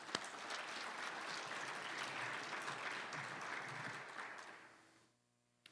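Sustained audience applause fills a conference hall during an opening keynote, steady and dense for about five seconds before fading out into near silence.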